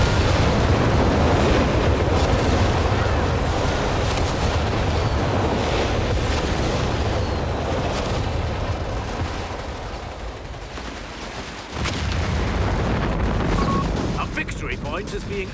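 Artillery shells land amid gunfire in a Company of Heroes 3 2v2 battle, with repeated heavy booms and crackling small-arms fire over a dense rumble, easing briefly near the end before resuming, with commentary talk over the top.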